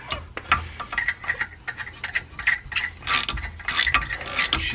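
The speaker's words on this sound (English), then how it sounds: "we're gonna start taking the axles out with a E12 external Torx" A ratchet turning an E12 external Torx socket on car axle bolts gives quick, close clicking pawl ticks in short irregular bursts, mixed with faint metallic handling.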